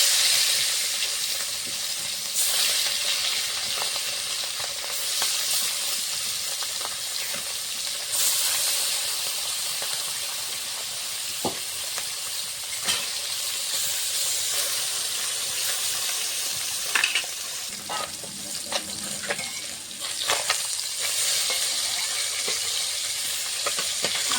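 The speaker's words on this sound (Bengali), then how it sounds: "কড়াইতে মাছ ভাজার জন্য সরষের তেল দিয়ে দিয়েছি। তেল গরম হয়ে গেছে, মেখে রাখা মাছগুলো ভেজে নেব।" Puti fish frying in hot mustard oil in a wok, a steady loud sizzle and hiss running through the whole stretch with occasional crackles and pops, no talking.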